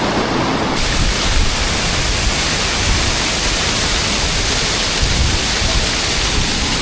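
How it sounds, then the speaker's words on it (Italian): Waterfall in Morocco, a loud, dense and steady roar of rushing water filling the whole stretch from close range, with no pauses and no voices. "Eccola la cascata"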